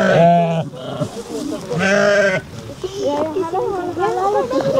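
Sheep crowd the pens after being bathed, giving loud, repeated wavering bleats that overlap one another close by, with a steady din of the flock throughout.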